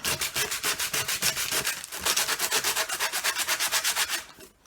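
Coarse 60-grit sandpaper rubbed back and forth over wood, a steady run of close, loud rasping strokes in a quick even rhythm that fades out at the end.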